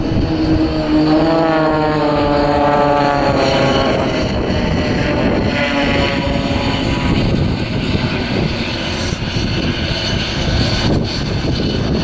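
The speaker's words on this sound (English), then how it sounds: "It's going to get even more exciting now the left hand side as they fly towards each other for the blades double cross." Blades aerobatic display aircraft flying a double cross at the RAF Leuchars Airshow, with a loud propeller drone whose pitch slides steadily as the planes approach and pass, over a continuous rushing engine roar.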